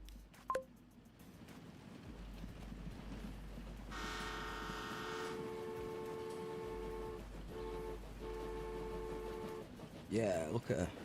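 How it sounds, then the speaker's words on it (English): A train in the Transport Fever 2 game on a Great Britain map sounds a sustained, layered horn for several seconds, followed by a second, broken blast, with a steady low rumble and a person talking throughout. "We have another train."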